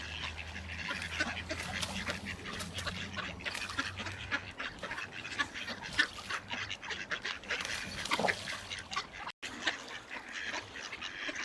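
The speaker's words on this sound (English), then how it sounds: "the ducks have all come here" A flock of ducks by a river quack and honk continuously at moderate distance, a busy overlapping chatter of calls with water and outdoor background noise throughout.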